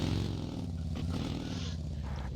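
A motorcycle engine in a battle royale video game hums steadily in the background, a moderate droning rumble that holds at a constant level with slight fluctuations.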